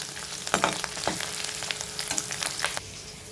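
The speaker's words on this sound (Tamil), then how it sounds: "இது கூடவே ஒரு கொத்து கருவேப்பிலையும் போட்டிருக்கேன். நல்லா வதக்கி விட்டுக்கிடுவோம்." Red chillies and a sprig of curry leaves sauté in hot oil, giving a steady close crackle and sizzle with scattered sharper pops and a few stirring scrapes, and no voices.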